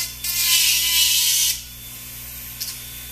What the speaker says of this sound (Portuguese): Para remover esse degrau, eu deito a broca na mesma direção do aparelho e faço o contorno cervical